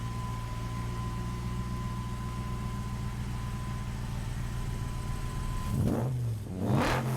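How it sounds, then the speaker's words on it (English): A Chevrolet Chevelle muscle car engine rumbles steadily at idle, then revs loudly twice in quick succession near the end, close and without any talk. "Chevrolet Chevelle"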